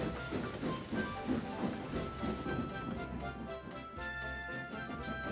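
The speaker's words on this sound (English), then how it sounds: "He and Elizabeth said goodbye and steamed off to the docks." Steady hiss of steam from a vintage steam engine, with low mechanical rumbling and faint rhythmic rail clatter underneath, fairly quiet and continuous with no voices.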